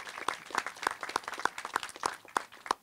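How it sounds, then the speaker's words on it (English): A small audience claps faintly and sparsely, distinct claps landing at a regular pace over a soft room murmur. "Please give them a round of applause."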